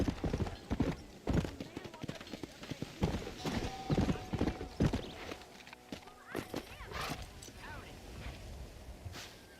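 Horse hooves clip-clop in an irregular walking rhythm in the video game Red Dead Redemption, close and fairly quiet, with a whinny and people talking over them.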